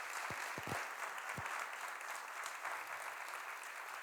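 An audience at a town's New Year address applauds young municipal councillors, a sustained, even wash of clapping with a few sharp knocks near the start.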